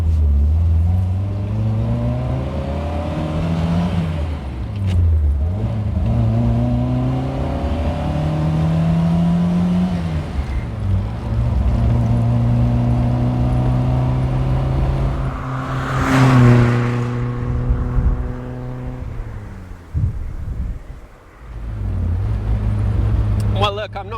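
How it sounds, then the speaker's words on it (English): A classic British Triumph Spitfire Mk4 sports car accelerates up through the gears, its engine note climbing steadily and then dropping at each shift, loud and close throughout. "we'll see how it feels going down through the gears, or going up through the gears rather"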